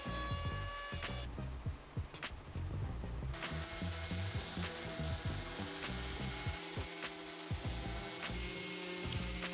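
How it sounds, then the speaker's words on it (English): Steady rasping and scraping of a hickory and white oak tabletop being sanded and card-scraped by hand, with repeated strokes and occasional knocks, close up and without talk. "Two rounds of sanding and some card scraper work here to get the top clean."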